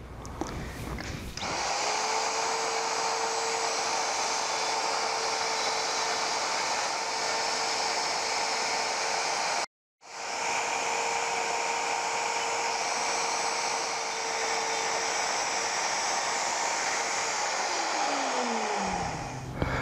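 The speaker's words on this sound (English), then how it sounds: "And I have another router that I'm going to hog out the material in between" A router whines loudly and steadily as it hogs out waste wood while dishing a stool seat. It spins up, runs continuously with one brief stop partway through, then winds down at the end.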